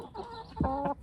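Laying hens cluck softly in a henhouse holding about 36 birds, two or three short, low clucks close by and fairly faint.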